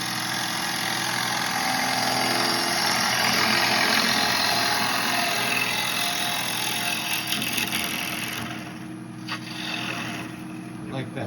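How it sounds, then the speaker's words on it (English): Steady whirring drone of a wood lathe spinning a bowl blank while a bowl gouge takes a peeling cut, the tip slicing and the bevel rubbing, with a continuous hiss of cutting that eases near the end as someone speaks over it. "I'm doing basically a peeling cut with this bottom wing, but the tip is slicing"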